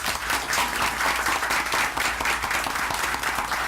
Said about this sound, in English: Can we all give a round of applause to Kalel?